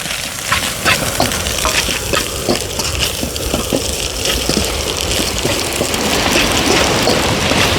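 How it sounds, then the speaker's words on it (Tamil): Cabbage is stir-fried for seafood fried rice over an outdoor beachside fire: loud, continuous sizzling and hissing with scraping stirs, close and busy throughout. "முட்டைக்கோஸ் ரெண்டு கிண்டு கிண்டி விட்டுருவோம்"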